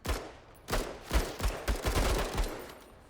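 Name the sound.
blaster gunfire in a video game (MENACE)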